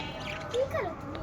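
Pet lovebirds with young chicks give a couple of brief, faint high chirps close by, against a quiet room background.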